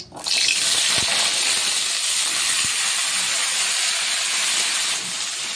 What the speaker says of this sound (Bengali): প্রথমে কড়াইয়ে আলু আর পেঁপেটা ভেজে নিতে হবে।